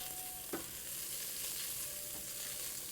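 Rice frying in a pan is stirred and spread out, a constant hissing sizzle with an occasional soft scrape or knock of the spoon, close and with no speech.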